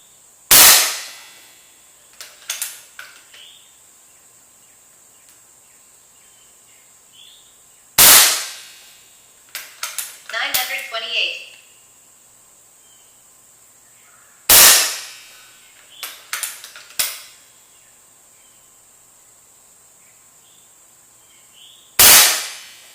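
Slug shots fired in a five-shot group from a custom FX Dreamline: loud, sharp cracks roughly seven seconds apart, each trailed by fainter clinks and rattles in between.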